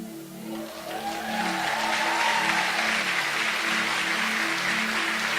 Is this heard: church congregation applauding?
yes